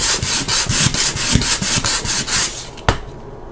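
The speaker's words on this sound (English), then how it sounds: "Sandpaper." A Halloween tombstone prop being sanded by hand with sandpaper: quick, rhythmic back-and-forth scratchy strokes close to the mic, ending with a sharp knock and then quiet, with no talk.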